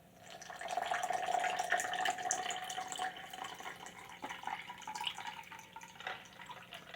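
Water poured into a Canadian IMP 2005 chicken cacciatore instant ration pouch, a continuous splashing trickle that runs strongly at first, then tapers with uneven gurgles and drips close by.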